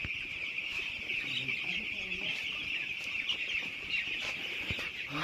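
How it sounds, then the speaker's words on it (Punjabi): Chicks and hens cluck and peep steadily over a constant high-pitched chirping din on a farm as chicks drink water and eat feed, close by, with a voice murmuring faintly underneath. "ਦੇਖੋ ਸਾਡੇ ਚੂਚੇ ਪਾਣੀ ਪੀਂਦੇ ਆ ਤੇ ਆ ਕਿਦਾਂ ਦਾਣਾ ਖਾਂਦੇ ਇੱਥੇ"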